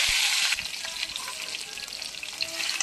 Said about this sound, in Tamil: கடுகு பொரிஞ்சோன்னே 2 காஞ்ச மிளகா, ஒரு பச்சை மிளகா, கருவேப்பிலை, உளுத்தம் பருப்பு போட்டு தாளிச்சிக்கோங்க